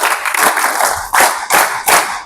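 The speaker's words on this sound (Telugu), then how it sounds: "ఒకసారి క్లాప్స్ కొట్టండి మరి దేవుడికి అందరూ." An audience at a health awareness programme claps in loud, close bursts that swell and break off several times in quick succession.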